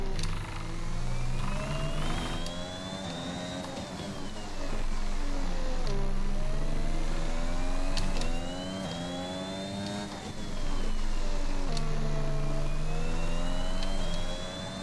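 An F1 car engine in F1 2021 rises and falls in pitch through gear changes as the car heads out of the pits at the Hungarian GP, loud and steady with repeated upshifts.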